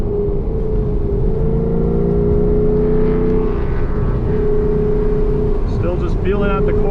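A 1,000HP Hennessey Exorcist drives a technical race track, its engine holding a steady, loud drone with shifting tones from up close, while a voice talks over it the whole time.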